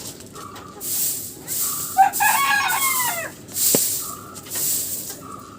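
Chickens cluck repeatedly near a coop while a rooster gives a clear crow in the middle, over a soft outdoor background with no talking.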